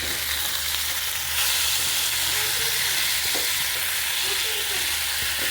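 Ground cumin, coriander, turmeric, chilli powder and salt being stirred in a hot oiled pan, a loud continuous sizzle that swells after the first second, with faint spoon scrapes underneath and no talking.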